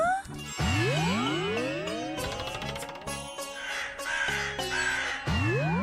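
A crow caws repeatedly in an animated Hindi children's story, its calls mixed with sweeping, jingling cartoon tones. The sounds are close and fairly loud, with no speech.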